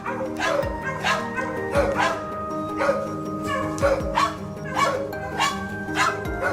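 Hunting dogs on a Texas wild boar hunt bark repeatedly in sharp, evenly spaced bursts, loud and close, with a faint background hum beneath.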